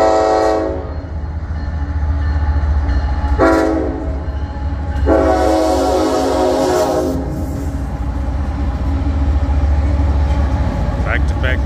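A CPKC Kansas City Southern freight train rumbles past, loud and close, with its horn sounding in several long blasts over the continuous roll of the railcars.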